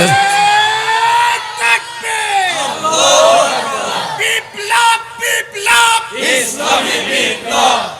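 A large crowd at a Bengali-language political rally chants slogans in loud, rhythmic call-and-response bursts, with raised voices and yells close by and no pause between phrases.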